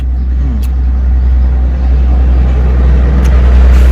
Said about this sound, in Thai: โอ้เสียงรถกระดังเด้อครับ